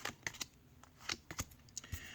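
A deck of playing cards being shuffled for a card magic trick, quick riffles and taps in close, crisp bursts at moderate volume, with no talk.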